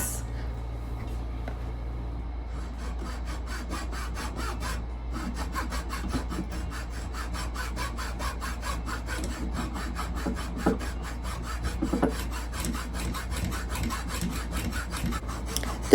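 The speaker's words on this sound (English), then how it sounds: "So here we go, sawing the Jenga blocks." Hand saw cutting through small wooden Jenga blocks, a steady rasping back-and-forth stroke that runs close and continuous, with a few sharper scrapes near the end and no talking.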